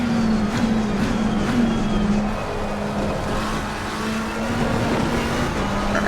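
Race car engine droning steadily in Assetto Corsa Competizione, a continuous loud roar with slight pitch shifts as the car accelerates, no voices over it.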